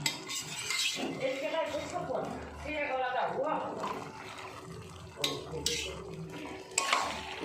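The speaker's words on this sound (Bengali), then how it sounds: "এবার ভালো করে নাড়াচাড়া করে নিচ্ছি" A spoon stirs boiled potatoes and peas into spiced goat fat for ghugni in a metal pot. There is scraping and clinking against the pan, a few sharp knocks and a faint sizzle, while someone talks over it.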